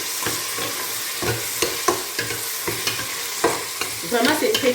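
Ndunda vegetables are stirred in a sizzling cooking pot, with a spoon scraping and knocking in a steady rhythm of repeated strokes over a constant close fry, and a flurry of quicker scrapes at the end.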